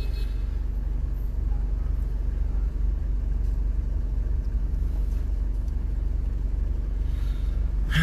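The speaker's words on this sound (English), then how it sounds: "You can see the traffic just now." Steady road traffic with engines idling, a continuous low rumble holding at an even level throughout with no voices.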